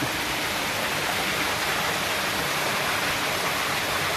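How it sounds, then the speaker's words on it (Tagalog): Spring water bubbling up and flowing out at a remote treasure-hunting site beside a hard-to-enter doorway, a steady close rushing hiss with no pauses. "bumubukal nga ng tubig. Yan o, may lumalabas na tubig."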